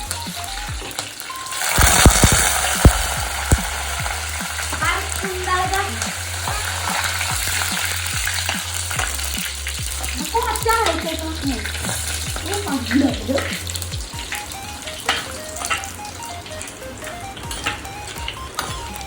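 Curry leaves and dried red chillies drop into hot coconut oil with a loud burst of crackling that settles into steady, close sizzling and spluttering with occasional stirring scrapes.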